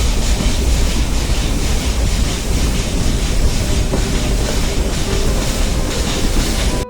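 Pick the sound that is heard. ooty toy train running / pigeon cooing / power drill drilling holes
ooty toy train running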